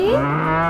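A cow moos once, loud and close, a short low lowing call with no other sound around it.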